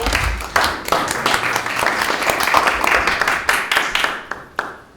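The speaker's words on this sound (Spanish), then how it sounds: "Vamos a darle un aplauso por favor a ambos." Audience clapping at a Spanish-language film talk about movies that inspired Star Wars, a steady dense patter of many hands with a few louder claps, fading near the end.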